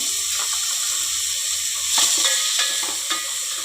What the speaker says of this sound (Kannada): ಒಂದು ಬಟ್ಲು ಅಲಸಂದೆ ಕಾಳಿದೆ ನೆನೆಸಿಟ್ಟಿದ್ದು, ಅದು ಹಾಕ್ಕೊಂಡು ಫ್ರೈ ಮಾಡ್ತಾ ಇರೋಣ.